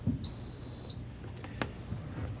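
A quiz buzzer at a school Battle of the Books contest gives a single clear electronic beep lasting just under a second, followed by faint room noise and a brief knock.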